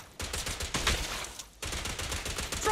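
Rapid video-game gunfire from Zenless Zone Zero on PlayStation 5 rattles in dense automatic bursts, with a short gap before the shooting resumes.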